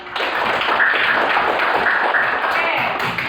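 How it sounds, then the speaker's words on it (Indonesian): A classroom of students applauds the first group, a steady dense patter of many hands clapping together for a few seconds, loud and close. "Ya, tepuk tangan dulu untuk kalian kita yang pertama"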